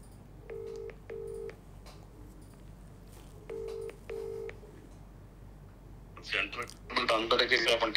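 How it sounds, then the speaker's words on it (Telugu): A phone call to a minister rings out as a steady tone in two double-ring bursts, followed by a voice speaking faintly over the line. "ఒకసారి మంత్రి తుమ్మల నాగేశ్వరరావు గారికి ఫోన్ చేద్దాం."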